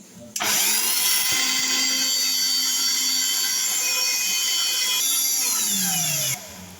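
Mixer grinder running with the lid closed, grinding masala paste for a kadai mushroom curry with cashews: a loud steady motor whine starting abruptly, holding for about six seconds, then cutting off.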